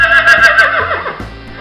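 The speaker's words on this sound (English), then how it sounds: "This is a grey horse, guys, beautiful horse, amazing color." A grey horse gives a single loud, close neigh with a rapid quavering whinny that falls in pitch and fades out, with no talking over it.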